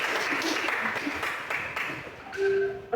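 A classroom group applauds a student named Risti: a dense patter of many hands clapping at close range for about two seconds, followed by a short tonal voice-like sound near the end.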